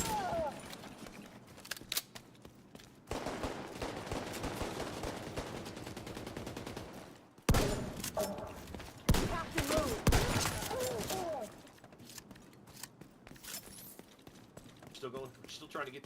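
Video game gunfire in rapid bursts, dense automatic fire with a few sharper single shots, loud and close and running under a voice throughout.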